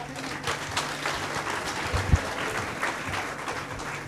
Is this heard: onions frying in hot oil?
no